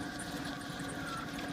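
Suzuki Aerio SX engine on a test stand at a wrecking yard, running rough and close to stalling: a steady, faint low idle rumble with a light hum and no rise in revs.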